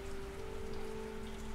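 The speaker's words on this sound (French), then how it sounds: "La pluie glacée fait un joli bruit en frappant les carreaux." Freezing rain taps steadily on window panes in a dense, even patter over a low hum, close and continuous without any voices.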